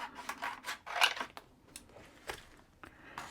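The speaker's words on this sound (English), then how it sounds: "Get some scissors." Scissors snipping through transfer tape, a series of short sharp cuts and crinkles close by at low level, irregularly spaced with brief quiet gaps between them.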